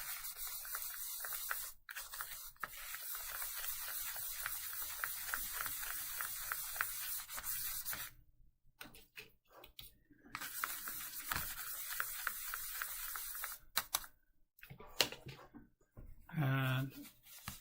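Toothbrush scrubbing toothpaste across a new plastic watercolour palette, heard as quick, close, rhythmic bristle rasps in bursts broken by short pauses.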